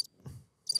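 A crickets-chirping sound effect: two short, bright high-pitched bursts, one at the very start and one near the end, with a soft low rumble between them and no speech.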